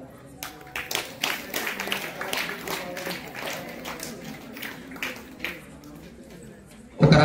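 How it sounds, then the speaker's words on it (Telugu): Audience at a temple quiz competition clapping after a correct answer, uneven bursts of claps that rise and fall over several seconds, fairly close, mixed with talking. "క్లాప్స్ కొట్టండి."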